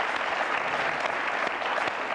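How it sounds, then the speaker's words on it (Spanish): Studio audience applauding on a television talk show, a sustained, dense clatter of many hands clapping at steady intensity throughout, no speech over it. "¿Ha visto cómo aplauden? Un poquito a la soviética."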